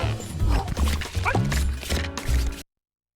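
Small dogs barking and yipping in the video game Dogpile, a quick run of bright barks over a steady musical backing, with the sound cutting off abruptly after a couple of seconds.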